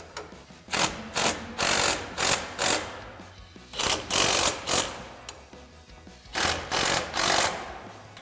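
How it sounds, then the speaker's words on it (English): A ratchet and wrench tighten grille guard mounting bolts on a 2015-2020 Ford F-150, giving quick bursts of metallic clicking in an uneven rhythm, close and fairly loud, with short pauses between bursts. "We're gonna grab our 8mm Allen socket and an 18mm wrench and tighten down all of our mounting hardware"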